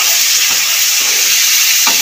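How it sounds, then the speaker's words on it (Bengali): Prawns being stir-fried with potatoes in a pan: a loud, continuous close sizzle with three distinct scraping stirs at roughly even intervals, nobody speaking. "চিংড়ি মাছটা দিয়ে একটু নাড়াচাড়া করে নেব"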